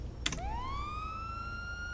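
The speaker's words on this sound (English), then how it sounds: "That will put on your siren so that it stays on." A police car siren in a video game roleplay server starts with a click, then a single clear wail rises sharply and holds high and steady, close and alone.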